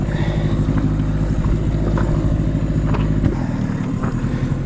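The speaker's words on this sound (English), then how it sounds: "That engine is definitely making some funny sounds. Popping every now and then." A boat's outboard engine runs steadily on the water with a dense low drone and occasional pops and clatters, the tone dropping and loosening near the end, with no talking.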